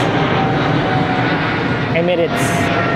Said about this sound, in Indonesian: Wih, mantap, ada pesawat guys. Emirates.